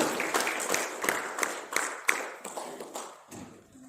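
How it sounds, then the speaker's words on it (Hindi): A small audience at a ceremony honoring the wrestling federation president gives sparse, uneven clapping, individual claps standing out sharply before they trail away. "इनके लिए भी जोरदार ताली बजाई जाए।"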